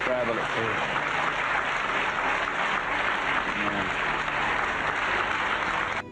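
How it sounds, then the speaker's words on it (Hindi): A church congregation claps in praise, a steady, loud and continuous round of applause that carries through to the end. "परमेश्वर को ताली बजा के महिमा दें।"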